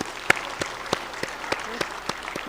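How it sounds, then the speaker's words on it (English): An audience claps at an inaugural ceremony marking the India Meteorological Department's 150th year, giving a continuous, moderately loud wash of clapping with sharp individual claps standing out at regular intervals. "I will request all of you to give a big applause for all my team who have worked for this"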